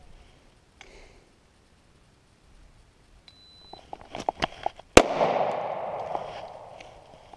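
M&P Shield 9mm pistol fired in a single-shot drill at a range: a few faint clicks and light handling taps, then one sharp, loud gunshot with a short decaying echo.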